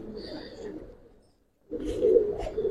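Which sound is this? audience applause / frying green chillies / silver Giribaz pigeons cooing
silver Giribaz pigeons cooing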